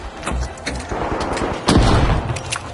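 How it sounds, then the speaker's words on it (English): A frag grenade bursts in a shooter video game amid rapid gunfire, a loud close thump standing out from a dense, busy stretch of shots and clatter. "Frag grenade out!"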